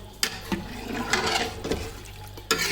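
Water poured into a pot for broth in a home kitchen, a close, continuous splashing stream with a few sharp clinks at the start and end.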